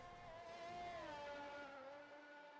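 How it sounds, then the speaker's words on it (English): A Formula 1 racing car engine from a video game at the Azerbaijani GP whines steadily with glitchy, wavering pitch, fairly faint and continuous with no voices. "that's just a game noise there with the funny glitches on the engine sounds"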